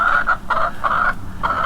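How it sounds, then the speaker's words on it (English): Chickens cluck outdoors beside a small greenhouse: several loud, close bursts of clucking in quick succession, with no talking. "And chickens are singing here in the background."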